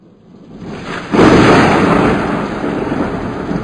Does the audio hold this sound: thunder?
yes